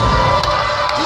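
Loud, close arena crowd cheering and shouting at a live boxing event in the Coppermine Du Burns Arena, a brief dense burst of voices.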